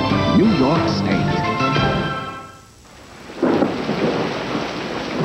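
A thunderstorm of rain and thunder: steady rain hiss with a rumble, fading briefly before returning, under music and tonal sounds from a 1980s television commercial.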